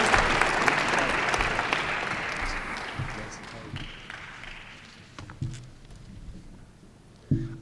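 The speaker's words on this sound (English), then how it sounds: "Let's give Nolan a round of applause" An audience at a national elevator pitch competition final round applauds a contestant in a steady, dense round of clapping that slowly thins and fades, with a few scattered claps and thumps near the end.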